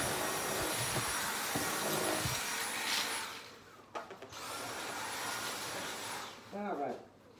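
A household vacuum cleaner runs loudly and steadily while debris is sucked up, drops out for a moment and then starts again, with brief clatter and someone speaking under it.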